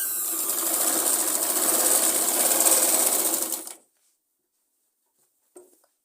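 Close up, a sewing machine stitches a seam on a Punjabi suit in one steady, continuous whir lasting several seconds, then stops abruptly, leaving silence and one faint click.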